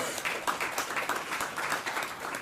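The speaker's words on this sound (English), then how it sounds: "So last round of applause is for you and us, all of us together." An audience at a ReactNYC meetup gives a round of applause, dense, even clapping from many hands sustained at moderate volume across the whole stretch.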